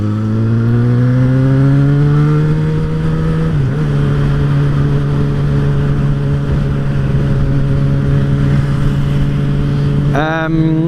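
A bus and road traffic pass close by, a steady loud engine drone with a pitch drop near four seconds and a rising rev burst near the end.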